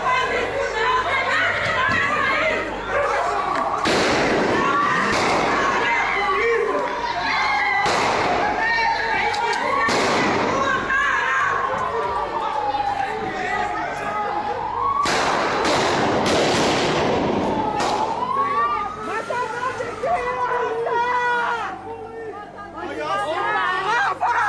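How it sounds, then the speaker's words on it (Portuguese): Sharp bangs from an exchange of gunfire in a residential condominium ring out in scattered bursts over a steady murmur of agitated voices, a few shots louder and closer than the rest. "Houve troca de tiros e tudo foi registrado por moradores."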